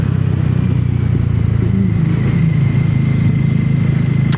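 A Hero Hunk 440 motorcycle being ridden through a bend, its single-cylinder engine giving a loud, steady low thrum at gentle throttle with wind rush around it.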